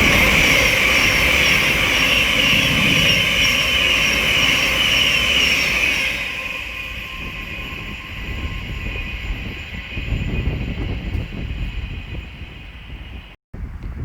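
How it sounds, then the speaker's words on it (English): Thameslink Class 700 electric train passing at Welwyn Garden City on the East Coast Main Line, a loud close rushing roar with high electric whine that cuts off abruptly, leaving quieter rumbling behind. "We're about to have a Thameslink Class 700 pass by from Three Bridges to Cambridge"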